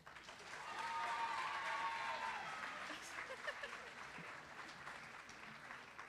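Audience applause at a high school underclassman awards ceremony, a swell of steady clapping from a crowd in a hall that gradually thins out, with a faint voice underneath.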